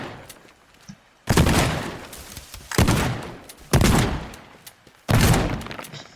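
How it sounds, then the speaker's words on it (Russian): Four loud, close shotgun blasts from the video game Teardown, each a sharp broadband boom with a short decaying tail, fired at roughly one-second intervals. "познакомлю вас с шотганом. Ну, дробовик."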